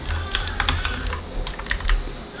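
Quick clicking keystrokes on a computer keyboard typing a command in a Vim editor, a close, crisp patter of several taps in an uneven rhythm over a couple of seconds.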